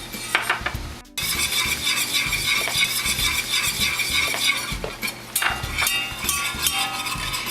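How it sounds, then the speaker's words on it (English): Butter and flour are stirred into a roux in a pan for mac and cheese, with a metal utensil clattering and scraping against the pan over a soft sizzle, loud and close, with a brief pause early on. "To the 4 tablespoons of butter, we're gonna add 4 tablespoons of flour."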